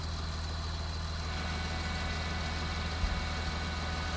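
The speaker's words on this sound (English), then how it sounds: "the loud noise the tractor and tanker make" A tractor engine runs steadily with a low, even rumble while its PTO shaft drives a slurry tanker, close and unbroken, with one faint clunk near the end.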